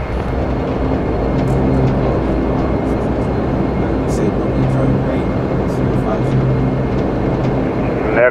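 Dash 8 Q400 turboprop in the flight simulator FSX Steam rolling for takeoff, a loud continuous engine and propeller drone with steady low hum and occasional clicks throughout.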